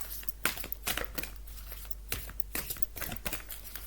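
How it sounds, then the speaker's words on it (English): A deck of cards being shuffled thoroughly, with a run of crisp riffling and snapping bursts close by, irregular across the span and heard alone without talk. "give these cards a really good shuffle"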